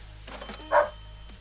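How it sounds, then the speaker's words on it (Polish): A single short dog bark rings out in the video game Gym Simulator, brief and mid-distance over a quiet background. "Kochany piesu."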